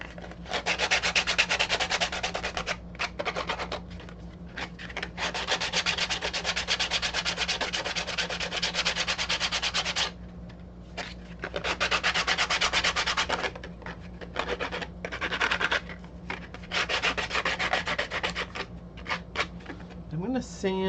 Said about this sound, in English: For our mouth plate, I'm going to gently sand these edges.